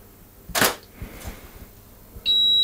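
A camera shutter fires with flash: a sharp click, a couple of softer mechanical clicks, then a steady high-pitched whine as the flash recharges, close and fairly quiet.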